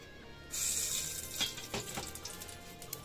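Ghee (Dalda) poured into a hot pan while making wheat lapsi breaks into a bright, steady sizzle that starts abruptly, with a few sharper pops and spatters, close and fairly quiet, with no talking.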